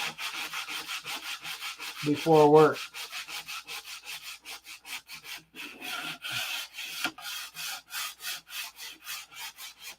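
Rhythmic hand sanding on a P-47 model airplane fuselage, steady back-and-forth strokes repeating close by throughout, with a brief spoken phrase early on.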